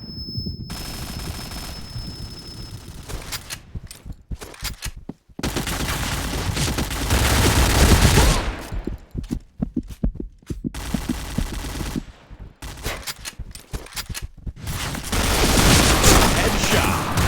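Rapid automatic gunfire from a shooting video game, several bursts of dense rattling shots broken by brief silent gaps, loud and close.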